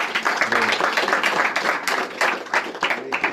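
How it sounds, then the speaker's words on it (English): A crowd claps in a brisk, scattered burst of applause, dense and close, with voices mixed in, at a Ram Navami festival celebration. "Give a big round of applause."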